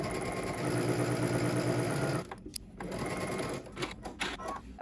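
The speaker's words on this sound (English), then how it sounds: "we're going to head to the sewing machine" A sewing machine runs steadily for about two seconds, stitching the side seams of a garment with a 5/8-inch seam allowance, then stops, leaving quiet handling and rustling sounds, close by and without talk.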